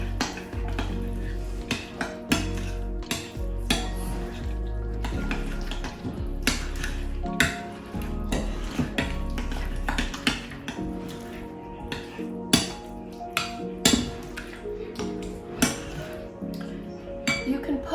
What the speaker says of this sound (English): And then mix it up really well.